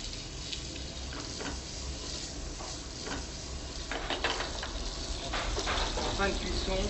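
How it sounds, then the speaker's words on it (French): Seasoned foie gras fries in a dry pan with no added fat, a steady close sizzle with occasional clinks and scraping of the pan. "maintenant on va faire cuire le foie gras qu'on a déjà assaisonné et surtout on prend une poêle sans matière grasse"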